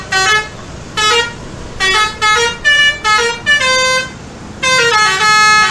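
A Pandawa 87 bus sounds a loud musical horn, playing a run of separate tuned toots in an uneven rhythm, close by and clear with no talk.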